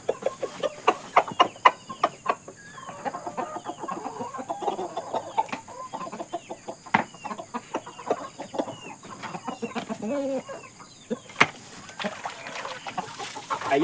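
Free-range village chickens cluck over and over in an irregular, busy rhythm, close and fairly loud, with occasional sharper calls rising out of the flock noise and no talking.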